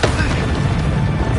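A Confringo spell bursts in Hogwarts Legacy as a short, loud, dense boom with broadband roar filling the whole moment, close and forceful.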